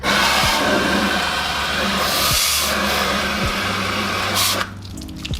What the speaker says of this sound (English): I'm gonna clean this real quick with a hose, pretty much.